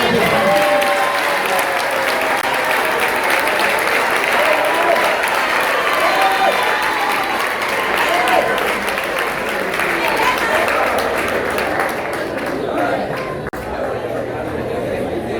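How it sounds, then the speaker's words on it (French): A congregation at an Assemblies of God church applauds and cheers throughout, a dense, continuous wash of clapping and crowd voices that holds steady and eases slightly near the end. "Si tu crois vraiment, acclame très fort le Seigneur."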